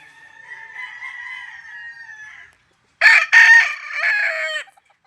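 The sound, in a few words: Polespark Gray chickens crowing and clucking at farm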